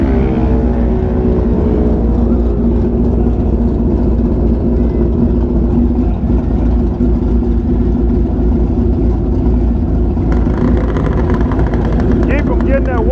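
A Suzuki Hayabusa motorcycle on an eighth-mile drag strip produces a loud, continuous engine roar throughout, with a sharper, higher-revving rise toward the end.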